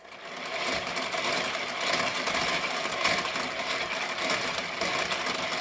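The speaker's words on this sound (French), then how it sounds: "je vais commencer à fouetter" Egg, mustard and vinegar whisked in a Tupperware DuoChef hand-cranked mixer for homemade mayonnaise: a steady fast whirring rattle, close and continuous, with no talking.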